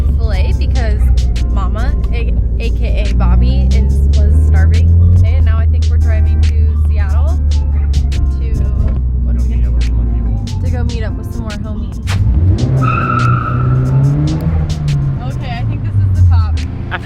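Car driving along with a steady low engine and road rumble heard from inside the cabin, while people talk continuously over it.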